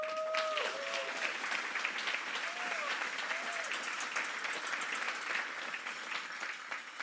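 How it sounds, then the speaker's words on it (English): A corporate event audience gives steady, continuous applause from start to finish, with a brief whistle or vocal tones and faint voices mixed in near the beginning. "So let's give them a round of applause."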